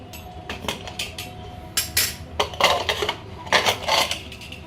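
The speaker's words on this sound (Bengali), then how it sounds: "এবারে প্রেশার কুকারের ঢাকনাটা খুলে নেব" Pressure cooker lid being handled and opened after cooking rice, with a series of close metallic clanks and clinks of the pot and lid at an irregular rhythm.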